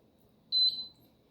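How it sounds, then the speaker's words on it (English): One short high electronic beep from an air fryer as its timer is adjusted, clear and close over a quiet room. "put it back into the air fryer. And then go ahead and adjust to 5 minutes"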